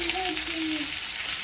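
Potatoes and cauliflower sizzling in hot oil in a home kitchen, a steady dense hiss with a faint voice briefly audible underneath.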